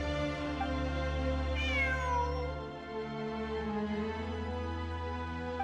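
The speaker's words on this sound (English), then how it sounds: "It really is a cat." Cat meowing in the video game Genshin Impact, one clear drawn-out meow rising and falling over steady game music, close and distinct.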